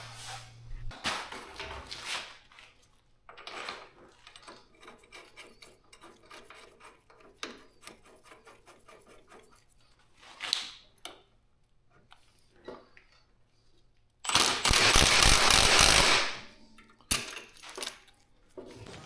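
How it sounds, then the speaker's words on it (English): Bolting width reduction parts onto a Can-Am Maverick R UTV, with scattered metallic rasps, ratcheting clicks and clinks, and one louder sustained burst near the end. "All right, I'll bolt these up."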